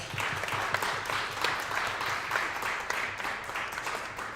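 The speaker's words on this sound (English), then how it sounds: "Please give them one more round of applause." A crowd gives sustained applause for a champion high school volleyball team, a dense, steady clatter of many hands clapping at once, fairly loud and unbroken, with no voices.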